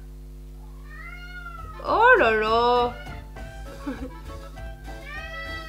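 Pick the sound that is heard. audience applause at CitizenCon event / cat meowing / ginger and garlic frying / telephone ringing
cat meowing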